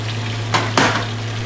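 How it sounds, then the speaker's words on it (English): Garlic sizzles in butter and whipping cream in a pan, a steady soft frying hiss with two brief louder stirring scrapes, alone with a low steady hum underneath. "we have the garlic cooking with the butter and whipping cream"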